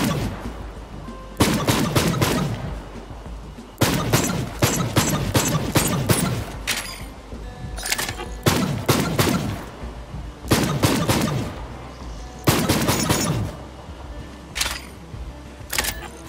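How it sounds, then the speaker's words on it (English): An exotic weapon in the video game Borderlands 3 fires in loud repeated bursts of rapid shots, each volley separated by short pauses, with nothing else audible. "this weapon shoots a lot like the Fire Mario when he picks up a fire flower"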